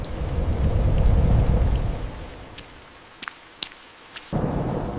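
A thunderstorm with heavy rain: a loud rolling rumble of thunder mixed with dense rain for two seconds, then it eases to lighter rain with a few sharp cracks and drips before the downpour surges again.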